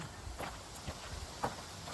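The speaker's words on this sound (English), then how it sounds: "Looks like horse buggy." A horse-drawn buggy passes with faint, rhythmic clip-clop hoofbeats on the road, heard from a distance behind a parked van.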